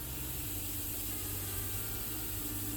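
Harder & Steenbeck Ultra V2.0 airbrush with a 0.2 mm needle, hissing steadily and faintly with a dry tip holding back flow, continuous air with no pauses.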